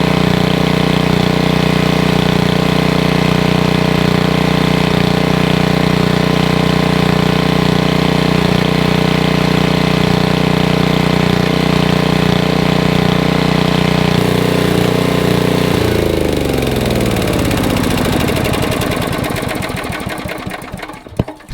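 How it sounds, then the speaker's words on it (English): A generator engine runs loud and steady at close range with a constant droning hum, then winds down and sputters toward a stop near the end. "there's really no good way to turn that generator off"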